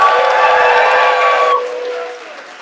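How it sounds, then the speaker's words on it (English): A crowd applauds two high school volunteers at an Iowa caucus precinct meeting, a loud dense roar of clapping and cheering that cuts off abruptly partway through and leaves a quieter room tone. "Please give them a huge round of applause."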